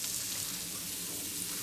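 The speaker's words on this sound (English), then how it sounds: "we're gonna take our rendered juices and we're gonna caramelize our onions" Onions caramelizing in rendered meat juices for Salisbury steak, a soft, steady close sizzle that holds evenly throughout with no voices.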